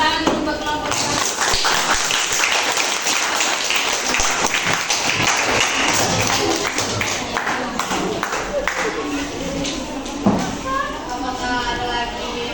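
Classroom applause for a student group during a biology lesson, a dense steady patter of many hands clapping throughout, with murmuring voices mixed in.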